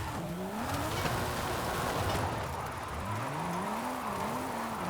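2JZ-powered car in Forza Horizon 5 racing game: a high engine whine rising and falling with gear changes, over steady loud tire squeal and road noise.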